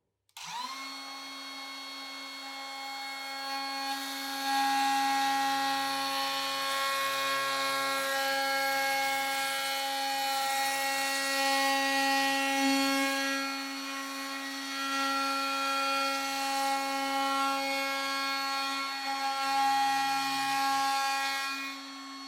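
Router rounding over the edges of a custom Les Paul guitar body, a sustained high-pitched motor whine that holds steady for over twenty seconds with slight dips as the bit cuts the wood, loud and close.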